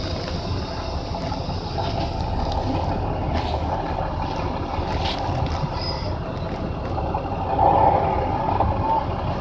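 A short bus engine runs in gear with a PTO engaged, giving a steady low rumble close by that holds level throughout, with faint wind noise and no voices.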